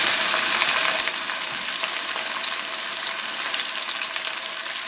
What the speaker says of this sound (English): Ooh, sizzle, sizzle. I got a sizzle.